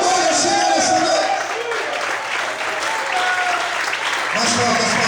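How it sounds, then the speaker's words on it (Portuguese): A church congregation claps loudly and continuously, dense applause filling the room while a preacher speaks over it. "Mais fortes palmas a Deus."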